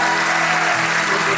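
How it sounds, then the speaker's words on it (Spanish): A church congregation at a Sunday service claps together in a loud, dense, sustained burst of applause. "Levanta un fuerte aplauso a Jesús"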